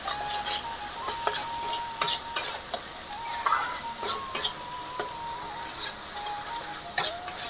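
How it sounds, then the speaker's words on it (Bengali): Spices with Kashmiri chili powder frying in a pan, a close, busy sizzle broken by frequent clinking and scraping spoon strokes at an irregular pace, no speech. "মশলার কাঁচা গন্ধ না যাওয়া পর্যন্ত ভাজতে থাকবো"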